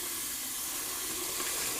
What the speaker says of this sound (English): Just going to rinse out my timeless ball real quick.